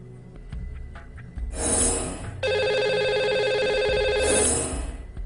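Telephone ringing on a live radio show as a lucky caller is put through: a loud, sustained electronic ring tone repeats steadily for several seconds, with no talk over it.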